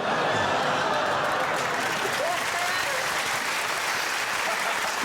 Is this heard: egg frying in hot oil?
no